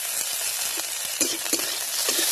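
Chopped onion and chilli frying in a small amount of oil with five-spice seeds, a steady close sizzle with a few soft stirring scrapes, no talking.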